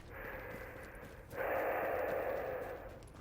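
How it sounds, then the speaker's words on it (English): Heavy, ragged breathing in the video game The Division, a steady close breathy rush that swells louder about halfway through and continues alone without speech. "Random heavy breathing."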